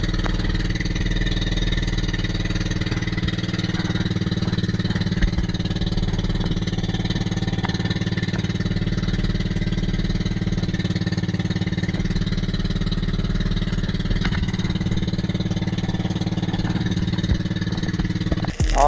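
A boat engine on Ragay Gulf drones steadily and loudly up close, a constant low rumble that holds without a break throughout.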